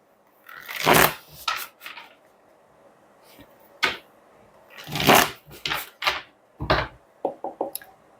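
Tarot cards are shuffled by hand in a quiet room, close up, in several separate riffling bursts with brief pauses and a few sharp taps between them.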